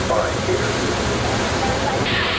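Niagara Falls roars as a loud, steady broadband wash of falling water heard up close, unbroken across the short stretch, with a faint voice in the background.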